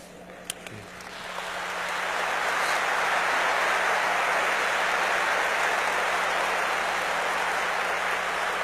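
A church congregation applauds during a sermon on God's love; a few sharp claps open, then a broad, steady wash of many hands swells and holds, sounding almost like heavy rain.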